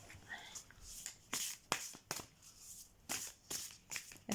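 A deck of cards being shuffled up close, a quick series of brisk riffling bursts in an uneven rhythm, quiet and intimate, with a little soft talk in the background.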